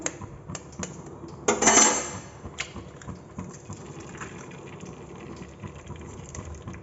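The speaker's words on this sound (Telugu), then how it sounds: "ఇప్పుడు ఆయిల్ వేసుకుందాం కొద్దిగా ఇప్పుడు ఎగ్ ఇందులోకి వేసుకుందాము" A single egg drops into a little hot oil in a pan while making egg semiya, giving a sudden short burst of sizzling and spattering that quickly settles into a faint crackle among light kitchen noises.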